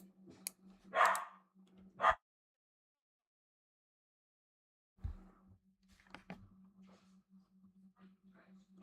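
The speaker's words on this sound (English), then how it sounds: "So my dog's going crazy." A pet dog barks indoors in a couple of sharp bursts, then the room goes silent, and faint barks and shuffling noises return later at a lower level under a steady hum.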